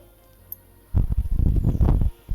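Cooking oil pours into a hot kadhai in a home kitchen, a run of soft, uneven glugging pulses lasting about a second, close by with no talk.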